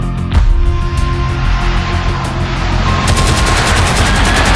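Machine-gun fire and bombing from Dutch aircraft attacking the city of Malang: loud, continuous, rapid bursts of gunfire over a heavy rumbling roar, with the pace quickening toward the end.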